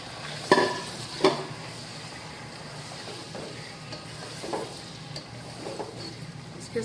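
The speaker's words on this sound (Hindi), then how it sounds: "ये देखें ये ऑयल गरम हो गया है, अब इसमें चिकन डालेंगे।" Chicken pieces going into hot oil for Afghani karahi, a low steady sizzle broken by a couple of sharp clatters and occasional stirring scrapes.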